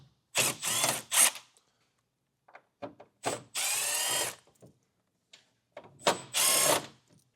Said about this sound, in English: We'll begin our installation by removing 6 T15 Torx screws.